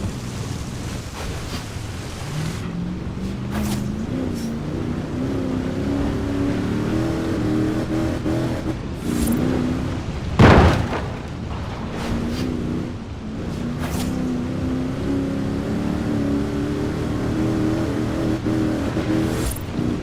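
Mercedes 6x6 with a 5.5-litre twin-turbo V8 driving off-road in Forza Horizon 4, a steady low engine drone rising and falling through gear changes, with one brief loud thump midway and constant wind-like rush.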